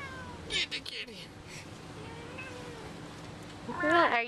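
A cat meows in short, rising-and-falling cries, one near the start and a louder one at the end, while people call and talk excitedly around it.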